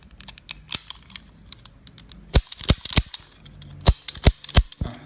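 Old 1998 and new 2024 steel cap guns fire caps in sharp, close snaps, a few scattered pops at first, then a quicker run of louder cracks with clicking of the mechanism between shots.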